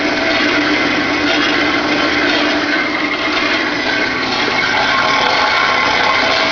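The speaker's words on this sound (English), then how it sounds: "7-inch metal cutting capacity bandsaw made by Emerson" An Emerson bandsaw with 7-inch metal cutting capacity cutting slowly through a 7018 steel weld, giving a loud, steady, unbroken grinding whine with no pauses and no voices.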